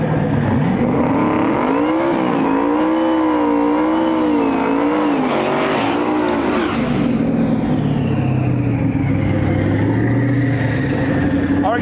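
Street cars launching in the stick-shift drag race finals at Saskatchewan International Raceway, engines revving loudly with rising and falling pitch through gear changes, then a roaring pass, close and intense.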